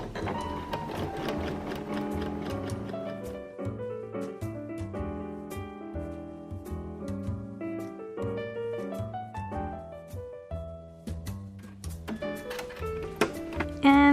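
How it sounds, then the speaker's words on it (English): A sewing machine stitches along the folded line of fabric during foundation paper piecing with freezer paper, a steady mechanical run close up and alone, mostly masked by continuous music. "And now I will be sewing along the folded line of the fabric."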